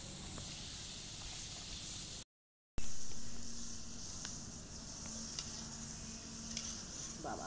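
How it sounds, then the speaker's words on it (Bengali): Sliced potato chips deep-frying in oil, a continuous loud hiss and bubbling sizzle broken by a brief silent gap, then settling to a steadier fry with faint stirring clicks. "বন্ধুরা চিপসগুলো একটু সময় নিয়ে এরকম ভেজে নেবেন।"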